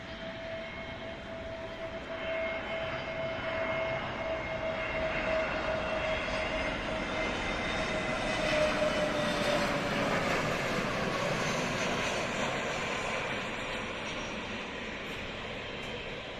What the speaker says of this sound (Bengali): এগিয়ে আসছে এয়ারবাস মডেলের A three two zero Indigo এয়ারলাইন্সের বিমান